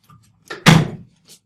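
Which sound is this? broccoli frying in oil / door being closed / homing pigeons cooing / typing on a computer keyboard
door being closed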